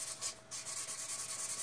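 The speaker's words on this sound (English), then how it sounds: "Wet sanding." Wet sanding across the varnish finish of a DIY-kit Telecaster guitar body, a close, steady rhythmic rubbing of paper on the wet surface in even back-and-forth strokes with a brief pause, no voices.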